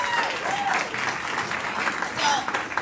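Audience applause at a senior awards ceremony for the Class of 2024: steady clapping from a crowd filling the room, with faint voices and stray tones blending in throughout.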